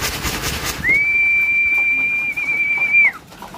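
Racing pigeons being trained to come to a call, answered by a single long, steady high whistle lasting about two seconds over faint outdoor background noise.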